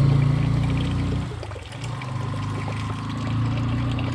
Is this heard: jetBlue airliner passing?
no